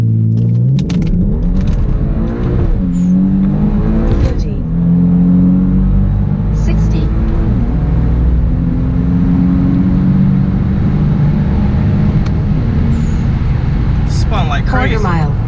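A car with a laggy transmission accelerates hard from a launch with its tires spinning, making a loud, close engine rumble that climbs through gear changes while someone talks excitedly over it.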